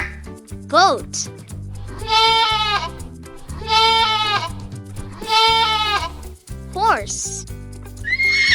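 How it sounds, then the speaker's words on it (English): A goat bleats in three long, wavering calls, loud and close, over steady background music, with short rising swoops before and after. "Goat"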